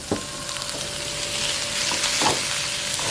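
Jaffna-style plantain varai fries in a pan with a constant sizzling hiss while a spoon stirs and scrapes in a few quick strokes, close and fairly loud, with no voices.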